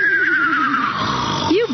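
A human voice imitates a horse's neigh, giving a loud, close, wavering whinny that slides downward and ends in a short rising squeal.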